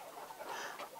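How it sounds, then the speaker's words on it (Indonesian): Roosters on a chicken farm, with soft clucking and fowl calls blending into a busy, steady background of birds throughout. "Ni ayam-ayam jantan ni banyak mana kat sini ni."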